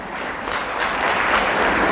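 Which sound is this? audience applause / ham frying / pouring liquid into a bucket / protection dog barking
audience applause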